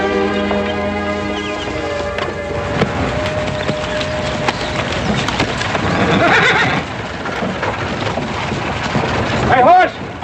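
A lame horse whinnies loudly near the end, with clip-clopping hooves and creaking wood of a horse-drawn wagon underneath, and a person speaks briefly before it.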